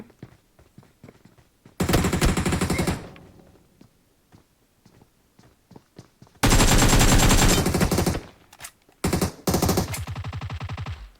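Gunfire in the video game PUBG on the Livik map: loud bursts of rapid automatic fire, one around two seconds in and longer volleys later, with soft footsteps and thuds between.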